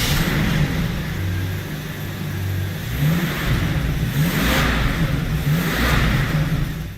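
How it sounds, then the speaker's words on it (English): A 12-cylinder car engine runs and revs loudly nearby, rising and falling in several surging pulls over a steady mechanical drone, with no talking. "the whole point of owning a 12-cylinder car is the starter sound"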